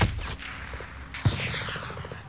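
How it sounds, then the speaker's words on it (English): Gunfire in Call of Duty Modern Warfare, a couple of sharp nearby shots with a short rattling burst between them, ringing out over a dull game background. "Someone else is shooting me."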